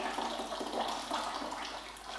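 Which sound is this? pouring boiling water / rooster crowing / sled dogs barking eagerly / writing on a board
pouring boiling water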